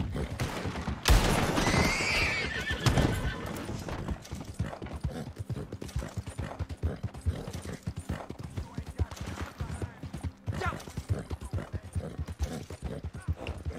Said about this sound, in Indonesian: Wih, enak nih kuda ini, kenceng banget